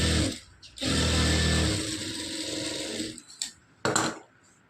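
Sewing machine running in two bursts while stitching a fabric edge folded over a quarter inch, loud and close, the first short run stopping before a longer steady one, followed by a few soft handling clicks.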